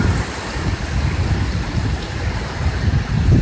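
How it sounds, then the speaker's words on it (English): Hurricane Matthew wind gust roaring steadily past palms beside a house, a loud, continuous broadband rush with low rumbling buffeting that swells slightly toward the end, no voices. "Oh, here comes another gust."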